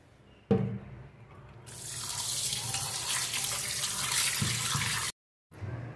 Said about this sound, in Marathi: आता आपण हे स्वच्छ धुवून घेऊया